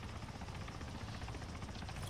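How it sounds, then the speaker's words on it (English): A military helicopter flies in the Arma III video game, its rotor chop and engine roar steady and loud throughout the short stretch, with no voices over it. "Helicopters."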